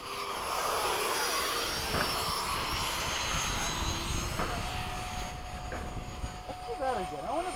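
RC model jets, an FMS F/A-18 and a Freewing 80mm A-4 ducted-fan, roar past in a low, slow formation pass at a flying field, a steady whooshing whine with voices talking over it.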